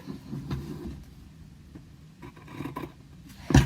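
Quilting fabric is cut along drawn lines, heard as quiet, close snipping and rustling cloth, with a louder burst of handling at the end.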